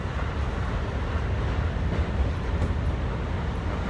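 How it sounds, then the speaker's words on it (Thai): Steady rumbling train noise fills the clip, a constant low roar of rolling carriages with no clear voices. "ขึ้นรถไฟไปด้วยกันเลยพี่น้อง"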